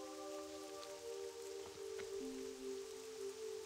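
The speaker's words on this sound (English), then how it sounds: "I did update my house, so it's raining." Steady rain falling in World of Warcraft Hardcore, a soft continuous patter under faint sustained musical tones, quiet throughout.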